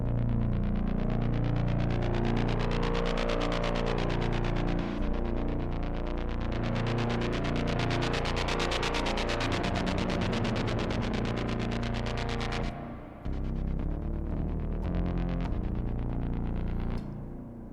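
A thick, buzzing synth bass drones loudly with a distorted, wobbling tone, sustained throughout and briefly cutting out before resuming.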